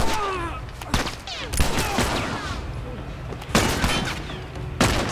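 Gunfire in The Last of Us Part 1 during combat: several loud, sharp shots spaced about a second apart, with voices talking between them.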